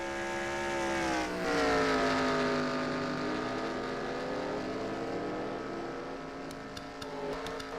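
Race cars pulling off pit road in a racing video game at Mosport, steady engine drone with pitch sweeping upward as they accelerate away, no talking.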